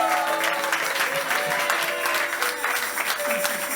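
A church congregation at a youth convention bursts into loud, sustained applause, dense steady clapping from many hands filling the room, with some voices mixed in.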